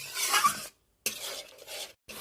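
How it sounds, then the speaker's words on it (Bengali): Spoon stirring yogurt into fried spices in a pan over a low flame for doi bhetki, a Bengali fish curry: scraping, rasping strokes in two bursts separated by a brief pause, close and fairly clear. "দই অ্যাড করার পরে আমি বেশ ভালো করে কয়েক সেকেন্ড ধরে নেড়ে চেড়ে ভালো করে কষিয়ে নিলাম।"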